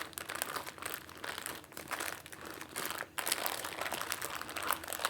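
A plastic bag crinkles and rustles close up as flexible flower-making dough is pressed and spread inside it, a continuous crackling with brief pauses.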